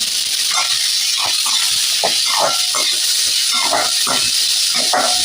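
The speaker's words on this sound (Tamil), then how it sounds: "வெங்காயம் நல்லா வதங்கட்டும்" A generous amount of chopped onion fries in oil for poricha kuzhambu, giving a loud, continuous sizzling hiss with irregular crackling spurts and pops from close by.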